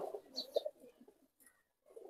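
Pigeons coo faintly inside a cage, a few low throaty calls close together, then a short pause before more soft cooing.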